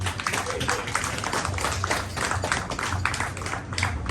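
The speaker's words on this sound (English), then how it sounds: "Everybody give a really big round of applause for one of two of tonight's featured comics" Live audience applauding a comedian at a talk show, steady dense clapping sustained throughout, loud and close, with a low hum underneath.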